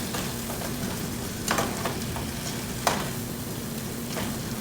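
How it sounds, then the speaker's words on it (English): Crab pieces stirred through a sizzling curry mixture in a pot for Trini curry crab, with steady frying hiss and a couple of sharp scraping clinks from the spoon, no talking. "you're going to mix that, kind of get all the crab coated in your curry mixture"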